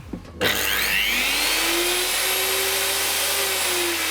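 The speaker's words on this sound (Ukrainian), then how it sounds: "давайте разом послухаємо, як вона працює" A Bosch GWS 24-230 JZ angle grinder clicks on and spins up smoothly under its soft start, its whine rising in pitch and then holding as a loud, steady, close-up drone.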